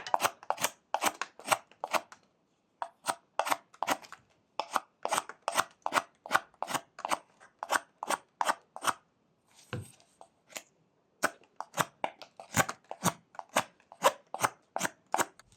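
Knife blade whittles wood, rounding the edges of a small raccoon carving in quick, crisp repeated strokes that come in rhythmic bursts with brief pauses, close and fairly quiet.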